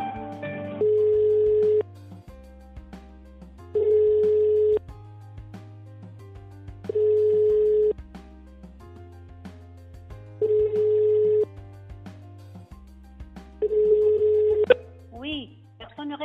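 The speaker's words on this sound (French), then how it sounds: "Ça a sonné, mais personne ne décrochait." A telephone rings out unanswered: five evenly spaced ring bursts about three seconds apart, each separated by low background hum, and no voice answering.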